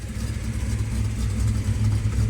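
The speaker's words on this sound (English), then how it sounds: "So here you go. Here's a Chevelle driving." A classic 1960s Chevrolet Chevelle SS engine runs steadily with a deep, low rumble and a slight rise in revs, heard close by with no talking.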